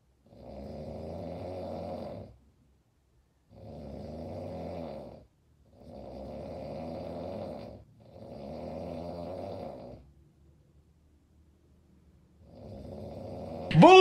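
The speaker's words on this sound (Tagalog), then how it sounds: "Tanginang hilik yan." A man snores loudly nearby in a room with a single bed, four long, rumbling snores separated by quiet pauses, then a fifth starting before a brief sharp noise cuts in.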